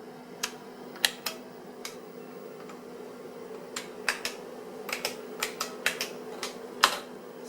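Sparse, irregular clicks of keys being pressed one-handed on an old AnyKey computer keyboard, about a dozen sharp taps with uneven pauses over a steady low hum, fairly close and quiet, no talking.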